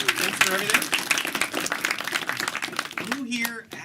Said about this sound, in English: Let's give a round of applause for the ETHTallinn organizers.